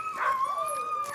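Sled dogs in Norway give off a continuous chorus of high, drawn-out whines and howls that overlap at moderate distance, rising briefly near the start, with no talking.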